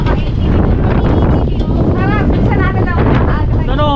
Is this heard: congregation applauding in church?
no